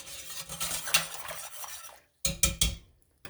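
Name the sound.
stirring citric acid solution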